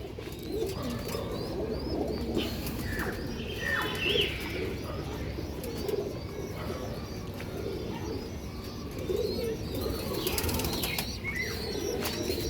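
Pigeons in a loft after feeding, with low cooing and bursts of wing flapping over a dense, rumbling background, plus scattered chirps, all moderately faint and without speech.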